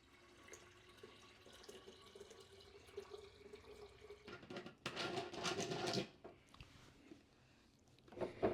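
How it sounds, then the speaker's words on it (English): Filtered water is poured into a one-gallon home-brew fermenter for a summer shandy beer: a quiet trickle first, then a louder rushing splash for about a second before it tapers to drips. "I have to put a little filtered water in there just to get it up to the 1 gallon mark"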